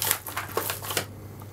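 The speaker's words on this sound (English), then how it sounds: "I'm just going to whack it" A plastic-lined envelope crinkles and rustles in several short bursts while seeds are put inside, close and moderately loud, with no talking.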